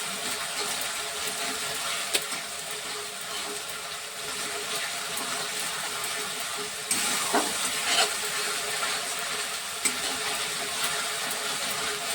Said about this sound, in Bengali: বাটা আদা বাটা রসুন বাটা তিনটেই সব দিয়ে দিয়ে এবার ভালো করে একটু একটু নিতে হবে কষে নিতে হবে